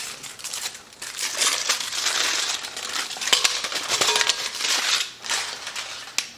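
Chocolate is broken up and dropped into a bowl, giving continuous crinkly, crackling snaps and wrapper rustling with small clinks, close and moderately loud.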